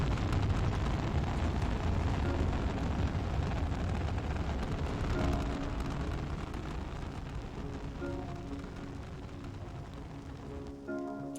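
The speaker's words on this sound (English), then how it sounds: "I feel like I'm very close to this rocket for some reason. But I guess rockets are loud." A loud, continuous roaring rumble from a rocket in an indie video game, dense and steady throughout, easing slightly toward the end with no voice over it.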